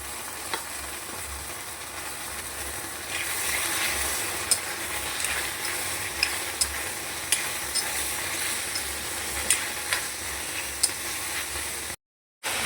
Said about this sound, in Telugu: ఇప్పుడు పచ్చికాయ తీసిన తర్వాత టమాటాలు వేసుకోవాలి. ఇవి కూడా బాగా వేపుకొని మెత్తగా అయ్యే వరకు వేపుకోవాలి.